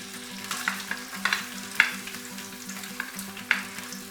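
Onions fry in hot oil for chana daal, a steady sizzle broken by scattered sharp spatters and the clink of stirring, with a faint low hum beneath.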